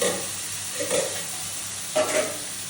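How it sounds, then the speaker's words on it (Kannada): Green chillies and tomato sizzle softly in hot tempering oil for a Karwar-style prawn gravy, with a steady low hiss and a few stirring scrapes coming at a slow, uneven rhythm. No one speaks. "ಒಂದು 3 ಹಸಿಮೆಣಸು ಹಾಕ್ಕೊಂಡು ಒಗ್ಗರಣೆ ಮಾಡ್ಕೊಳ್ತೀನಿ"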